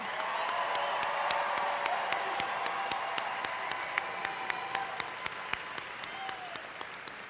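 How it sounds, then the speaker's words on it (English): Graduation crowd at the McKinney Boyd High School 2018 ceremony applauding the class of 2018: sustained, dense clapping from a large audience throughout, with a few sharper claps standing out, easing slightly toward the end. "let's give a huge round of applause for the class of 2018"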